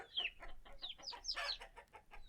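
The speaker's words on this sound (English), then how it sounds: "let's check up on the chickens, actually" Chickens clucking in the video game Vintage Story, a run of short, fairly faint bursts of clucks and squawks with brief gaps between them and no talking.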